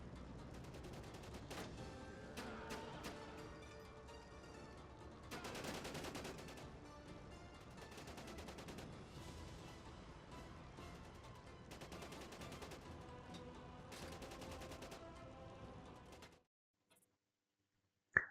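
Rapid rifle fire from the CH rifle, a scoped fast-firing weapon in the video game Days Gone, rattles in dense continuous bursts with brief gaps, then cuts to near silence before one final sharp report.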